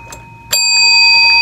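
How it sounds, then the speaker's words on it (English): A bell rings out sharply at a magic show with a safari theme, its bright ring sustaining over a low engine-like rumble, preceded by a few faint taps, with no voices. "Stop ringing the bell."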